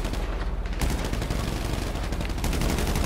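Heavy gunfire in GTA Online, a loud, continuous stream of rapid shots rattling without pause, briefly thinning then resuming at full intensity.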